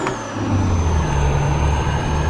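A Mitsubishi FE 449 truck labouring in first gear in Euro Truck Simulator 2: a loud, steady mid-pitched engine drone with a faint whining tone holds for a couple of seconds with no talk.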